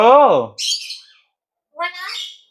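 A young ringneck parrot squawks loudly and close, a harsh call followed by a higher chattering squawk and, after a pause, another burst of rasping calls.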